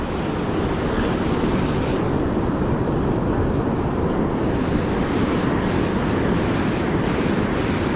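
Ocean waves wash onto the shore during beach fishing, a dense, steady roar of surf close by with wind buffeting the microphone, no voices.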